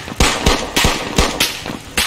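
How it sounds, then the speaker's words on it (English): Close, loud gunshots in the military shooter Arma 3 during a co-op mission, about eight sharp reports in quick, slightly uneven succession. "Gunfire, it sounds like the military protesters."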